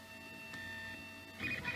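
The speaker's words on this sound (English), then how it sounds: "The printing continues." A 3D printer hums steadily with faint stepper whine while printing a 5mm calibration cube, quiet and close, with a slightly louder buzzing movement near the end.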